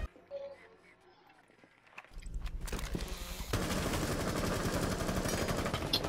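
Gunfire from the Squad video game, including a shotgun, erupting after a quiet stretch into sustained loud shots and battle noise, with speech mixed in.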